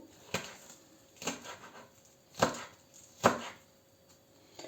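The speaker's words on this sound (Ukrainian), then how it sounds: "до цієї гречки ми будемо зараз нарізати дрібонько отак цибулю" Onion being finely chopped with a knife on a board, four sharp, distinct cuts at an unhurried, slightly irregular pace, quiet and close, with no speech.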